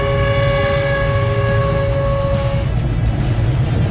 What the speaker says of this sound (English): The horn is blasting every time we cross a road that crosses the railway track.